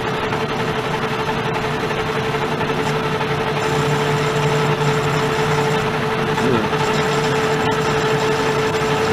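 A workpiece spins at 314 RPM on a turning machine, a loud continuous motor whine and hum with a steady tone and slight rumbling variations throughout.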